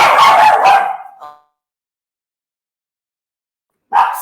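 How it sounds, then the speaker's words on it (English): Dogs at home bark in a loud, close burst at the start, followed by a short yip, a long silence, and one more sharp bark at the end. "I've got dogs at home."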